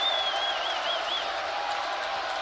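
A college basketball arena crowd at a Northwestern versus Purdue game in Evanston rises into a sustained roar of cheering, with a whistle tone near the start and commentators talking over the noise.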